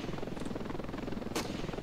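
A helicopter in the Battlefield video game gives off a quiet, continuous rotor drone with a faint rhythmic pulse, cut briefly by a short sharp noise near the end.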